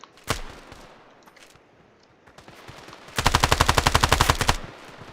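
Gunfire in the Standoff mobile shooter: a single sharp shot, scattered faint distant pops, then a loud rapid automatic burst of about a dozen evenly spaced rounds close by.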